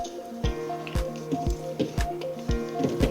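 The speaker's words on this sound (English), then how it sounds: "We're going to add in our half a teaspoon of vanilla extract. And continue whisking again." Leche flan batter with vanilla extract being whisked in a bowl, a run of rhythmic wet slapping strokes about twice a second, close and alone with a faint ringing tone.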